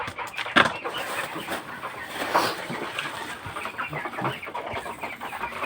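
Hungry chickens cluck and squawk, with a few louder calls standing out over a steady, busy background of farmyard noise.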